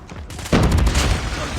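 AS VAL suppressed rifle firing in COD Mobile, a quick burst of rapid shots that starts abruptly after a short quiet lead-in and rattles on to the end.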